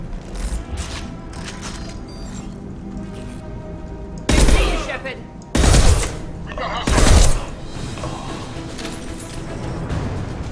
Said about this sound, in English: The Blue Suns and Vorcha shooting anything that moves.